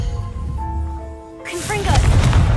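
An Incendio fire spell cast in Hogwarts Legacy: a sustained tonal hum gives way to a sudden loud whooshing burst of flame with crackling rumble continuing after, a shouted voice mixed in.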